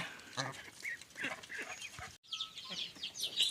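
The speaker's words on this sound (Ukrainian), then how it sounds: "Курочки. Їдять зерно." Chickens cluck and chatter close by on a farmyard while pecking at grain, a steady busy patch of fowl calls with a brief pause midway before the clucking resumes.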